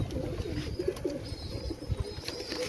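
Pigeons in a loft coo in low, bubbling murmurs close at hand, overlapping calls from several birds over a steady background of shuffling and faint rustling.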